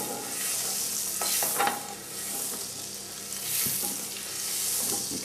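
Butter melting into hot oil in a pan before pork loin goes in, giving a steady hiss with soft scraping and stirring bumps throughout, no talking.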